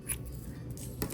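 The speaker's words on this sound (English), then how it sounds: "Make sure when you cut off your yarn, you leave a nice long tail" Scissors snip through crochet yarn, a short, quiet cut with a couple of soft blade clicks, close by.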